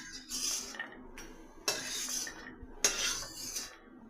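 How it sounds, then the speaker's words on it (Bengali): Fried bori lentil dumplings lifted out of hot oil in a pan, three distinct bursts of metal spatula scraping and clinking against the pan with quiet gaps between, close by. "এই যে বড়িগুলোকে তুলে নিচ্ছি।"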